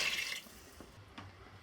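Two cups of water are poured into a cooking pot for homemade beef stew: a brief rushing splash at the start, then a few faint drips in near quiet.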